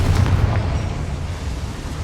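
A Confringo blasting spell explodes in Hogwarts Legacy, a heavy, low booming rumble that rolls on and slowly fades without any clear sharp crack.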